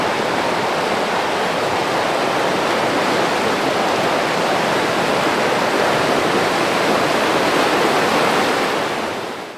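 A river in northwestern Colorado swollen with snow melt rushes loudly and continuously, a dense, unbroken roar of churning water close by with no pauses.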